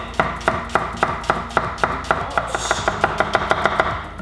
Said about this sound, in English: all we're gonna do is we're just gonna slice them really, really thin